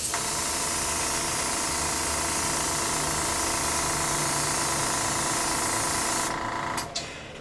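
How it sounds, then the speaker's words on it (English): An airbrush sprays paint onto a model of Ed's Reliant in a steady, close hiss that holds for nearly seven seconds and then cuts off. "So now I loaded up my airbrush, and let's get painting."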